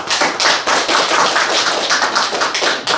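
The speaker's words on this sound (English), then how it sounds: "Let's give a round of applause to Mr. Sumadi and all of us" A room of conference attendees at a trade discussion in Stockholm claps steadily and briskly, the overlapping hand claps forming a loud, even patter with no speech.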